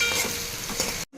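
Onion pieces sizzle and fry in hot oil for an egg curry, a close, dense crackling hiss with faint stirring scrapes that cuts off abruptly at the end.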